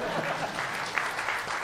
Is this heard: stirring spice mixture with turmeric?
no